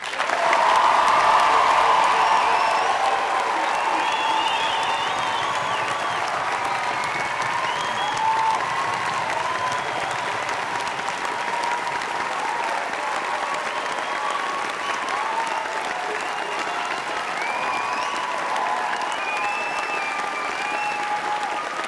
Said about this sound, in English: give me one last tumultuous round of applause for all our new graduates